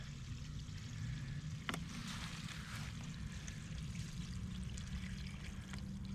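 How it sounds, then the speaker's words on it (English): Water pours and trickles steadily from a bowl of sandy clams, soft and continuous, with a faint clink partway through. "Pour off the top water."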